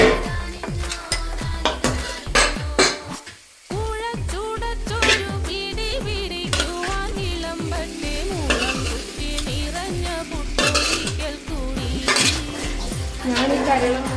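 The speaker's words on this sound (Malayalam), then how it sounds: "നമുക്കിത് ജസ്റ്റ് ഇളക്കി കൊടുക്കാം" Chicken and onions being stirred in a pan for a Kerala chicken curry: repeated rhythmic scraping of a utensil against the pan over a constant sizzle, loud and close, with a short pause partway through.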